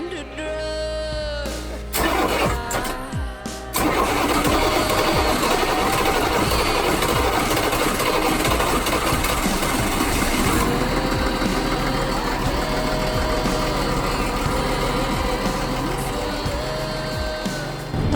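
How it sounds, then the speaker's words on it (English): The diesel engine of a Nordhavn 55 trawler yacht runs steadily with a low, rumbling idle throughout, after a brief start-up burst near the beginning, loud and close, following repair work. "After carefully performing diesel engine surgery, she started right up."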